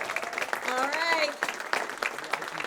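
Audience applause at an awards ceremony, a dense wash of clapping with a voice cheering over it, loud and sustained throughout.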